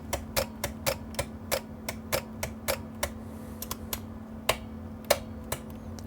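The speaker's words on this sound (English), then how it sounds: "when we flick the power on and off, the relay shutters," A relay inside a Texas Star CB amplifier clicks on and off as the power is flicked, producing a rapid series of sharp, evenly spaced ticks over a steady low electrical hum.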